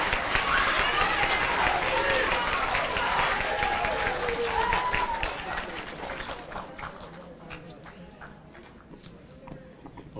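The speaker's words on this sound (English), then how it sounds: "So let's give them a round of applause." Applause for seventh-grade spelling bee contestants in a school setting, a busy clatter of clapping mixed with crowd noise and some speech, loud at first and then thinning out and fading over the second half.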